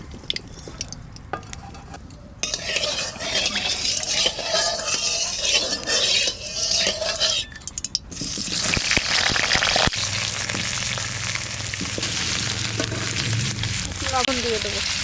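Potatoes fry in a pan for a duck egg curry, a steady hiss with stirring and clinks from the pan. The sizzle gets louder and denser partway through and runs throughout.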